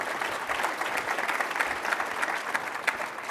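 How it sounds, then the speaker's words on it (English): Audience applause at a summit plenary session: steady, moderately distant clapping from a crowd, continuous and even throughout with no talk over it. "So give her a round of applause for them."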